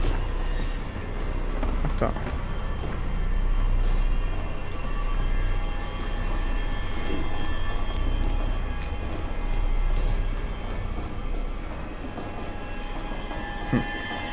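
Subway train carriages rattle in the shooter game F.E.A.R. 3, a steady loud rumble with clanking and rolling wheel noise throughout, with voices talking over it at times.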